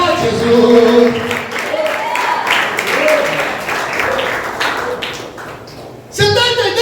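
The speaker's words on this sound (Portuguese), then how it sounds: "Se você recebe, aplauda bem forte, Jesus." Congregation applauding loudly at a church prophetic seminar: dense, sustained clapping for about six seconds, mixed with voices and shouts, dipping briefly before a fresh burst at the end.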